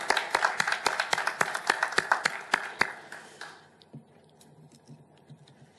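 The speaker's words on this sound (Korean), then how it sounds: "뜨거운 박수로 우리 아버지 하나님께 감사와 영광을 올려드리겠습니다." A church congregation claps in a bright, crisp burst of regular beats for about three and a half seconds, then the applause fades into scattered faint sounds.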